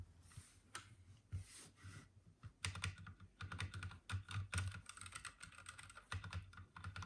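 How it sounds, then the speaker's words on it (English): Feet on a Ducky Mecha SF Emerald limited edition gaming keyboard being adjusted give quiet close clicks, taps and scraping rubs in irregular bursts, with no talking. "let me just adjust the feet on the gaming keyboard"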